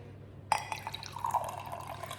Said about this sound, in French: la bouteille n'est pas pratique. Attendez. Je vais verser.